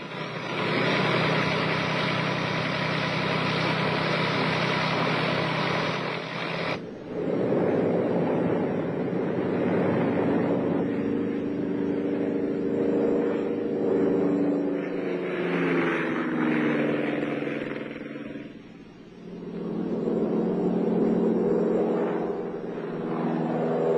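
A South Vietnamese Air Force aircraft roars at takeoff power, a loud sustained engine drone with strong low harmonics that shifts and wavers in pitch as it accelerates, holding steady throughout with no voices.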